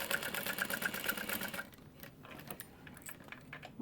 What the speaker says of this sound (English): Sewing all the way across.